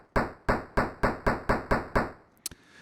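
Ableton Operator's oscillator B, set to a looped noise sound for a synthesized snare, plays alone as eight crisp, evenly timed hits with a ringing, slightly metallic edge over a noisy body, followed by two small trailing clicks.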